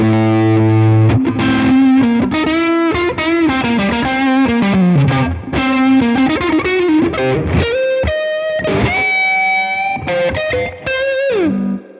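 An electric guitar runs through a Tone King Imperial tube amp with a Hot Rubber Monkey overdrive pedal at full tilt, playing loud, driven chords and sustained notes with no talk over it.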